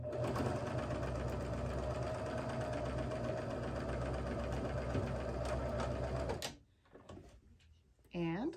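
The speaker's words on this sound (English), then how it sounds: "Okay, I'm going to throw it under the machine." A sewing machine stitches a quilt block with a loud, steady, rapid whirring hum for about six seconds, then stops abruptly, leaving a few quiet clicks and a brief voice at the end.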